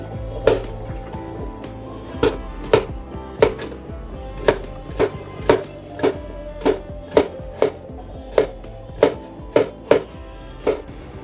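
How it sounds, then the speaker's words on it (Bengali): Carrots are cut with a knife on a cutting board in a steady run of about fifteen crisp, evenly spaced chops, close and clear over a faint background hum. "এবারে গাজরগুলো আমি কেটে নিচ্ছি"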